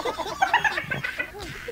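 Chickens cluck and chatter close by in a short, busy burst of overlapping calls.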